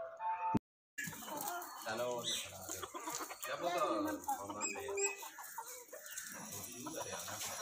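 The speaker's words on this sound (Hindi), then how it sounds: "आप देख सकते हैं मुर्गे भी हैं" Desi Golden Misri chickens cluck and a rooster calls in a busy Pakistani hen farm, with a person talking over the birds after a brief cut.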